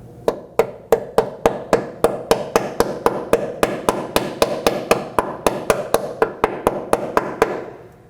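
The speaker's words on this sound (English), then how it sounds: "install it by tapping it with a hammer." Hammer taps a brake hose clamp into place on a 2015-2023 Nissan Maxima, about two dozen sharp, evenly spaced metallic blows in a steady rhythm, close and clear.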